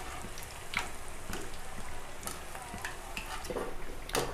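Corn fritters (garelu) fry in hot oil with a steady, soft sizzle and occasional louder crackles and pops, fairly close and with no talking over it.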